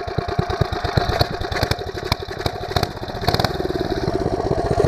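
A small mini bike engine idles close by at night, its rapid, uneven putter of firing pulses running steadily throughout.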